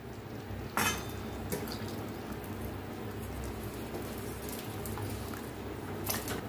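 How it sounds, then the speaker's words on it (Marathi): Cooked drumsticks are poured into sambar masala in a pot, giving a soft, continuous wet splashing and sloshing with a few brief louder clinks, close by and with no talk. "आता ह्याच्यात शेंगा ज्या आपण शिजवून घेतले त्या ते ओतूया"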